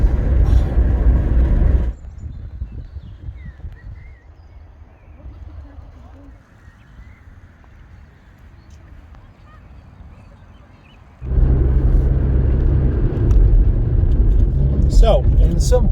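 A 420GSi Tourer estate car on the road, a loud steady low engine and road rumble that drops to a quieter cabin hum for several seconds before returning at full level, with someone talking over it.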